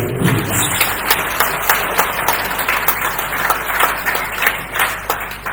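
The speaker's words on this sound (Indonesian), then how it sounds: "Tepuk tangan yang meriah." Applause from a Christian youth reunion gathering on Atauro, Timor-Leste, after a sermon: lively, close clapping with sharp irregular claps and thumps that run steadily without talk.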